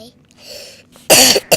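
A short pair of coughs bursts out loud and close near the end, following faint speech and breathing during a Lego game played on an iPad.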